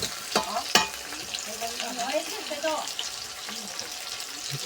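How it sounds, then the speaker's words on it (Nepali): Meat frying and being stirred in a pan for a Nepali dish, a close crackling sizzle with scraping stir strokes and a couple of sharp clanks near the start. "एकछिनसम्म फ्राई गरेर"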